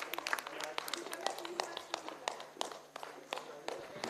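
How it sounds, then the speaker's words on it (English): Scattered handclaps come from a small audience at a LEPCON 2026 conference prize announcement. The claps are faint, sparse and irregular, with quiet room sound between them. "Please give a big round of applause for them"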